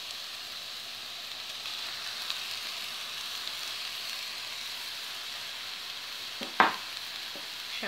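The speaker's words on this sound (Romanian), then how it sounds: "Acum o să adăugăm carnea tocată. O adăugăm pe toată." Minced beef frying in a pan with onion, carrot and celery gives a steady, dense sizzle throughout, with a brief clatter of a utensil near the end.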